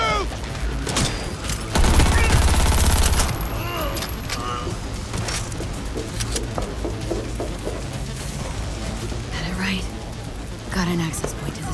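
Gunfire in the video game Cyberpunk 2077 erupts in a loud, dense burst of shots near the start, then continues as scattered cracks and impacts under shouted voices and game effects.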